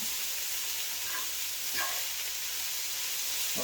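Bean sprouts cooking down in a hot pan give off a steady, close sizzling hiss with faint stirring scrapes, and nobody speaks.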